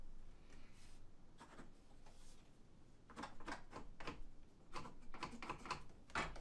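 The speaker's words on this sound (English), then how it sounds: "we're going to transfer these lines to each board going all the way up in the line so our pencil marks are perfect" Pencil marking lines across wooden boards for a DIY desktop build, heard as a series of short, close scratchy strokes in irregular bursts, growing more frequent toward the end, with no talking.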